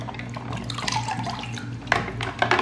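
Water runs steadily from a tap over a China travel kit being washed in a sink, with small splashes and drips standing out near the end.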